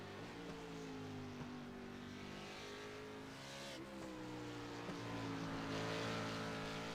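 Number 45 Ford GT3 race car in a racing game, its engine whining steadily through gear changes with rising and falling pitch, continuous and fairly close.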